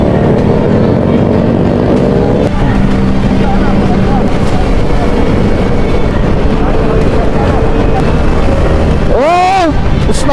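Endurance rally motorcycles with loud mufflers rev and roar nearby in Mindanao, one machine sweeping past near the end while voices sound in the background.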